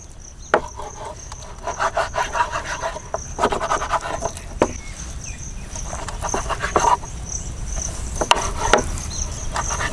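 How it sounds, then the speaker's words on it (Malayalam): Knife slicing boneless chicken into small pieces on a board, a string of soft wet cuts and scrapes at close range, no talking. "അപ്പോൾ നമുക്കിത് ചെറുതാക്കിയിട്ട് ഇനി കട്ട് ചെയ്യാം."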